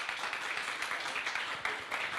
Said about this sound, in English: please thank them with an applause